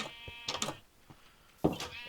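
Sheep bleating in a horse and sheep pen inside a Minecraft city, a few short bleats spaced apart at moderate volume with faint background sound between them.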